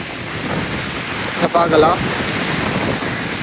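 Stormy sea surging high onto flooded streets in Jaffna, a steady roar of surf and wind buffeting the microphone, with a brief voice speaking partway through.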